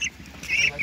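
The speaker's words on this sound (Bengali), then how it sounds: "এটা চীনের হাঁস।" A Chinese duck on a farm gives a few short, nasal quacks close by, with quiet pauses between them.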